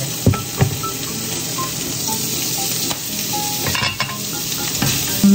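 Sautéing in a pan while cooking pancit canton, a loud close sizzle with repeated scraping and stirring clicks of a utensil against the pan, no talking.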